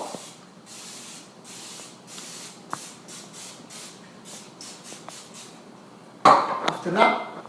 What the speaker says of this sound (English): And then you spray a little oil